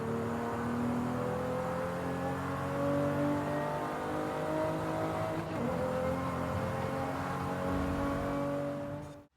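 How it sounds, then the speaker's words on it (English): A Toyota Supra laps a race circuit, its engine holding a steady, loud drone with shifting pitch as it revs and accelerates, close and continuous with no talk, cutting off abruptly at the end. "So I did 4 laps of this circuit in the Toyota Supra"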